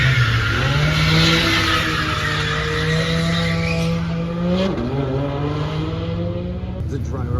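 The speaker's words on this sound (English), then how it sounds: "you see that dude doing the hot laps in that GT4" A Porsche GT4 on hot laps around a race track, engine droning and shifting pitch with tire squeal and skidding, loud and sustained, with voices talking over it.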